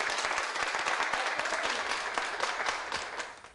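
Applause from a small group for Antonia and her friends after a women's exercise class, a dense steady patter of clapping lasting throughout and easing slightly at the end.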